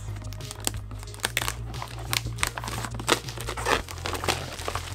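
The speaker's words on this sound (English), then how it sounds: "We always love ripping the plastic off new product." Plastic wrap being torn and crinkled off the box of a new iSteady Pro 4 three-axis gimbal stabilizer for GoPro, with close, irregular crackling bursts over a steady low hum.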